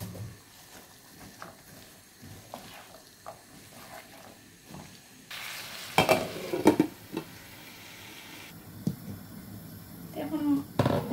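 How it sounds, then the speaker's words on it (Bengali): Radish curry with ground spices sizzles gently in a pan as a spoon stirs and scrapes, rising to louder clatter partway through, while someone talks over it. "এখন মশলাটা কিছু সময় জাল করে নিচ্ছি।"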